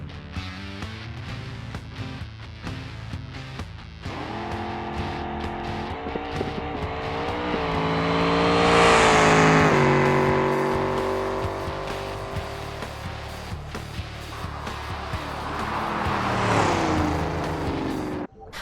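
Moonhawk drag car roaring down the strip in BeamNG, the engine climbing through several upshifts with rising pitch, peaking loudly mid-run before easing and surging again, ending abruptly.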